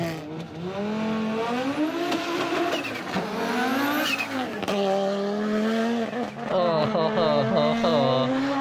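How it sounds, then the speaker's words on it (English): A Forza Motorsport race car engine revs and climbs through gears, its turbo fluttering between loud, sustained pulls, with a voice talking faintly underneath. "it's like the combination of the turbo flutter in between the already nutty sound of the engine."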